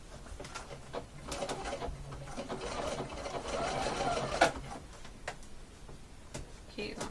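A sewing machine stitching fabric piping runs in a steady mechanical whir, moderately loud, while a person talks over it.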